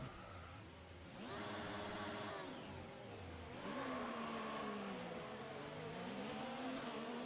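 An F1 2019 racing car in the video game screams through a fast right-hand corner in dirty air, its engine note wavering and dipping as the rear steps out, then rising again; no talk over it.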